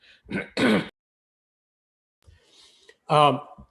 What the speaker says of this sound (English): I'm going to mute myself and cough for a second